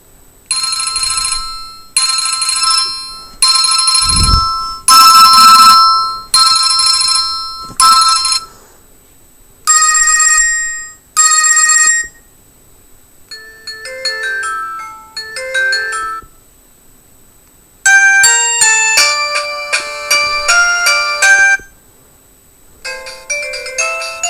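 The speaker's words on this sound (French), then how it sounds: "faire voir différentes sonneries." Loud electronic ringtones from a Clap Facile mobile phone for seniors, one melody after another in short bursts with brief gaps, bright beeping tones and chiming patterns, played alone with no talking.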